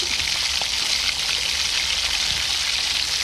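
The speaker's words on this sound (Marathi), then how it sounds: "कढईत तेल घेतलं, जिरं अशी फोडणी दिली" Cumin seeds sizzle in hot oil in a wok, a dense steady crackle heard close and alone throughout, while tempering for a masoor dal amti.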